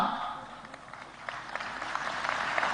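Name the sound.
audience applause at a Global Investors Summit speech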